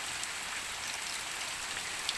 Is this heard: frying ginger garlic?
no